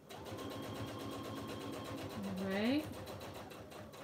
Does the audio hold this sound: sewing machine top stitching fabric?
yes